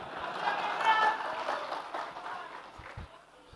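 Crowd applause at an Indonesian political rally held by the PKS party, a broad wash of many hands clapping, loudest near the start and slowly thinning, with voices murmuring underneath.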